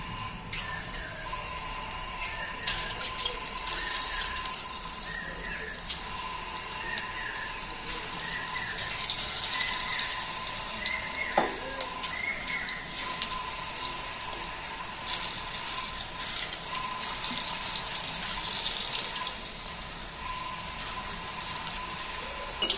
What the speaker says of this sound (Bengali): একটা একটা করে পকোড়ার মতো তেলের মধ্যে দিয়ে